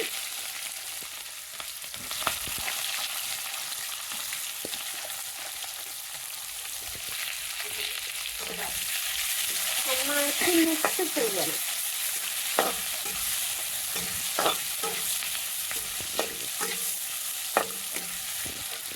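Onions stirred and frying in a pan until browning, a continuous hiss of sizzling oil with scraping and tapping of a spoon against the pan throughout, nearby with no voices.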